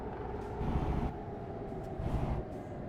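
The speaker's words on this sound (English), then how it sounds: "that's kind of what the sound makes of the electric trucks in game" A steady low electric drone from an electric truck in a video game, swelling louder twice as it moves along, with no voices.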